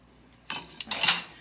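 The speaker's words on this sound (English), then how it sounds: "So you just want to give that a nice little mix." Black pepper and salt stirred together in a small dish, a short burst of light scraping and clinking of a utensil against the container, close and alone, lasting under a second.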